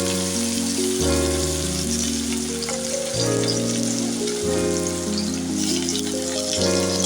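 Chopped onion frying in a pan of oil with crushed cardamom and a dried red chilli, a steady dense sizzle that runs throughout under a layer of soft background music.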